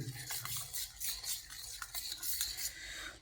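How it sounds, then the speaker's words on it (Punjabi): Homemade black salt stirred into lassi in a bowl, rapid swishing and light metallic scraping of a spoon, continuous and close, with no one speaking. "ਇਹਨੂੰ ਇੱਕ ਲੱਸੀ ਦੇ ਵਿੱਚ ਪਾ ਕੇ ਚੰਗੀ ਤਰ੍ਹਾਂ ਮੈਲਟ ਕਰਕੇ"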